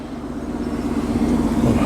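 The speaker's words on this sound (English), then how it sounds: "What a great sound this flat 6 Porsche 911 makes." A water-cooled Porsche 911 flat-six idles and revs gently at a classic and sports car gathering, a low steady rumble that swells slightly, close by and with no talk.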